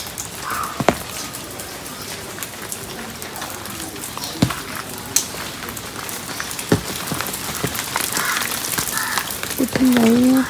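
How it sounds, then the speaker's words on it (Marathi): Light drizzle falling outdoors near trees and a waterfall in misty weather, a soft continuous patter with scattered louder drops and occasional crow caws, faint talk in the background. "बाहेर रिमझिम पाऊस सुरू झाला आणि आता थोडंसं बंद झालेलं आहे"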